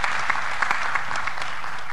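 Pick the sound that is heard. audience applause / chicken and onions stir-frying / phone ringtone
audience applause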